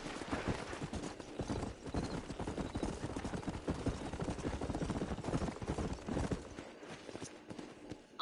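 Horse hooves pound in a fast, steady gallop while riding in Red Dead Redemption, a continuous dense clatter at close range with no talk over it.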